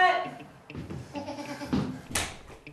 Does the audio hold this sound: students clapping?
no